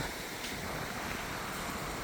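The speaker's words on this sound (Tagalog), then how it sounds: "Ito ang dagat" Continuous roar of sea waves washing in at Naujan, Oriental Mindoro, mixed with heavy wind buffeting the microphone, steady and loud throughout.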